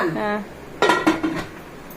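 Metal clanks close by as a pressure cooker lid is set and closed, a few sharp knocks and rattles following a brief voice.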